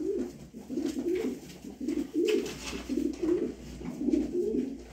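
A racing pigeon coos in repeated low, throaty phrases, steady and close, with brief pauses between each rolling call.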